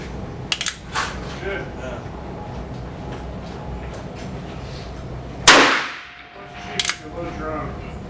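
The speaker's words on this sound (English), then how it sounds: "time to touch off that 44 Magnum, the Virginian Dragoon with those fully loaded 310 cast bullet magnums" A Virginian Dragoon .44 Magnum revolver fires full-power 310-grain cast bullet loads: one loud, sharp shot cracks out and decays quickly, with a few small clicks and clanks of handling before and after.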